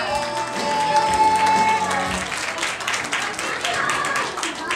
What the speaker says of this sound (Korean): 자, 박수 쳐주시기 바랍니다.